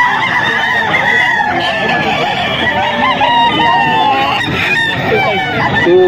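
A two-year-old bulik rooster crows and clucks loudly and close by at a seller's market, with people talking in the background.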